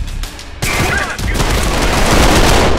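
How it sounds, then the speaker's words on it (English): Rapid gunfire from a Mark 23 pistol in the video game Trepang2, a dense burst of loud overlapping shots and booms running almost continuously after a brief quieter start. "Your starting pistol is the Mark 23,"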